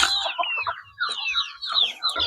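Backyard farm chickens cluck and squawk in a busy overlapping chorus, close and lively, with ducks also kept nearby and no talking heard.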